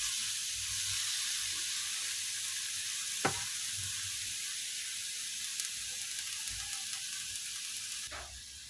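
Meat and vegetables for pakbet adobo frying in a pan, a steady broadband sizzle throughout with a couple of brief stirring scrapes, close and moderately loud, no voices.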